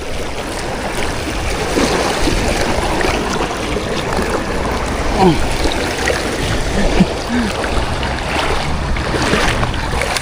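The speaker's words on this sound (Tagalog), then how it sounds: "Kahit malakas ang agos." Strong river current rushing and churning nonstop, a broad steady wash of moving water close by, while people talk over it during fishing.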